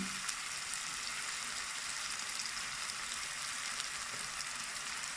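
Prawns and raw plantain masala sautéing in a pan, a steady bright sizzle that holds evenly throughout at a moderate distance, with no talk over it.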